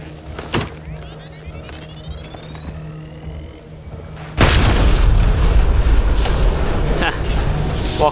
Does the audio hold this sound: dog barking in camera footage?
no